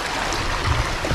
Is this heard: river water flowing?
yes